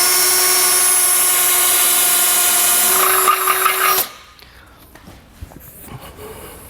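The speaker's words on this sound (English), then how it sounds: "So go ahead and start drilling." A power drill whines loudly and steadily as it bores into the steel frame of a 2022 Chevrolet during a base plate install, then cuts off abruptly, leaving faint clanks and handling noise.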